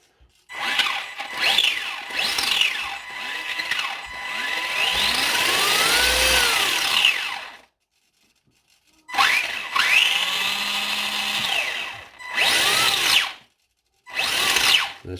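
An electric RC car motor on a Hobbywing Quickrun 1060 ESC revs at full power in loud, rising and falling whines, with several bursts broken by short pauses, heard up close.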